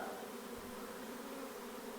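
A honey bee swarm that has just left its hive gives a dense, steady buzzing drone with no pauses, heard for about two seconds without any voices.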